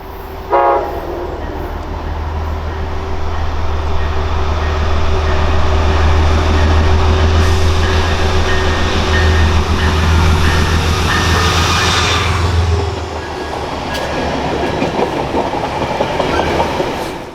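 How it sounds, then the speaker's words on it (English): A northbound Metro North commuter train on the Hudson Line rolls past close by, a loud sustained rumble with rhythmic wheel clatter over the rails and a horn note near the start, fading slightly as it ends. "Following behind the Amtrak was a northbound commuter train."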